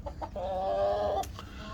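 A hen clucks a few short notes, then gives a longer drawn-out call, followed by a brief squawk; moderately close, no talking, among a flock of chickens and roosters.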